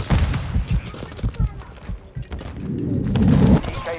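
Gunfire in Call of Duty Modern Warfare II, a burst of sharp close shots and thuds in the opening seconds, then a denser rattling stretch toward the end, mixed with game noise.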